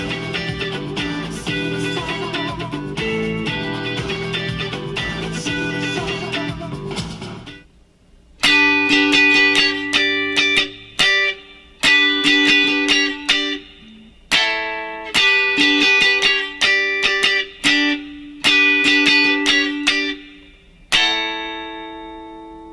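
A distorted electric guitar plays the main rhythm part of a song, starting with a dense sustained strum and then breaking into choppy, repeated staccato chord stabs with short gaps, loud and up close.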